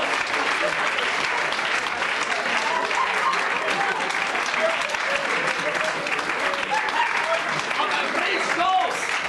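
A cabaret audience applauds steadily throughout a live comedy show, a dense, sustained wash of clapping with faint crowd voices mixed in.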